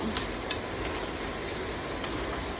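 Sauce cooks in a pan with a steady, close sizzle and bubbling, broken by a few soft scraping strokes as it is stirred.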